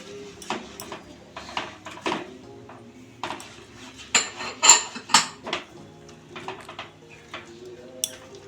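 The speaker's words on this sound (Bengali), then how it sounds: "অল্প অল্প করে সুজি দিয়ে আমি এটাকে মিশিয়ে নিচ্ছি তারের কাতের সঙ্গে" Semolina stirred into boiled milk and palm pulp in a pan over low heat, with a spoon scraping and clinking against the metal in irregular bursts, some louder knocks near the middle.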